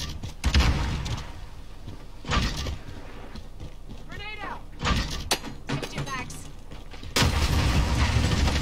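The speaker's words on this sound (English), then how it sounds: "Grenade out! Get back!" Booming blasts from a video game grenade and other explosions burst out at intervals, with heavy low rumble under voices talking over game sounds.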